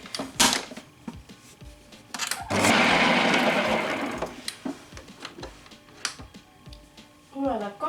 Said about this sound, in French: je vais venir battre le tout pendant à peu près 2-3 minutes, le temps que le beurre devient pommade